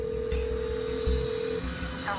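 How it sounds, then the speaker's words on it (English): A telephone number being dialed, a single sustained tone followed by short beeps, close and clear over a faint background hiss, with no talking. "We give a call to Courtney, and she's giving us some information."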